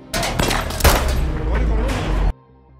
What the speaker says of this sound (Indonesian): Setelah terdengar suara tembakan